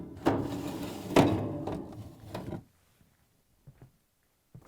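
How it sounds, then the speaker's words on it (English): The lower plastic drawer of an LG/Kenmore freezer is pulled out and removed, giving several scraping, clattering bumps over about two and a half seconds, fairly close, then quiet with a few faint knocks; no talking. "Next, pull out and remove the lower drawer."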